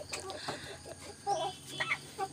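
Rhode Island Red hens clucking close by in a backyard, with short irregular bursts of soft calls and squawks over faint background noise.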